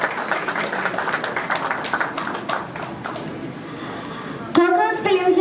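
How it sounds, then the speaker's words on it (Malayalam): Applause from an audience at a Malayalam film press meet and trailer launch, a broad steady patter of clapping that fills the first four seconds and then fades under a voice. "നല്ലൊരു കൈയടി കൊടുക്കാം."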